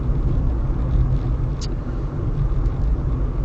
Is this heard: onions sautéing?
no